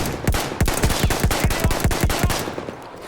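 Rapid automatic gunfire from the video game Battlefield 1, a steady burst of about a dozen loud, evenly spaced shots over dense battle noise, tapering off at the end.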